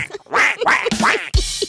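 A voice imitates a mallard duck's quack in a series of loud, close, raspy honking bursts, like a hacking cough, with no other talk.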